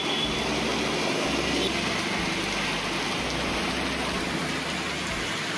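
Steady rain pours down in India, a dense, even hiss that stays loud and unbroken throughout, with a faint low rumble underneath.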